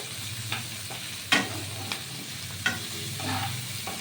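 Fried rice stir-fried in a pan with salt and capsicum, giving a steady close sizzle with sharp scrapes of the spatula against the pan at irregular moments.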